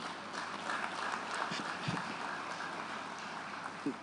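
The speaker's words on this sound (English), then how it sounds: "yes, it's a good point to clap." A seated audience at a journalism awards event claps softly, a faint, steady patter of many hands heard from a distance with a few louder nearby claps.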